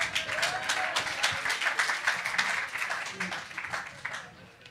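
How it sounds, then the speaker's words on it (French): An audience at a French literary event applauds, a quiet, fairly steady patter of clapping from a modest crowd heard at some distance throughout. "Olivier Magarotto, Nati Jen, on peut applaudir le public."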